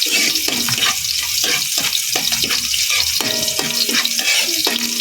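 Sliced ginger sautéing in hot oil for Filipino sinabawang isda, a steady close sizzle broken by repeated scraping stirs of a utensil against the pan, with no voices.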